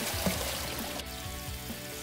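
Water gushing steadily from the outlet pipe of a self-installed ram pump on a Chinese farm, a continuous close splashing pour with no talk.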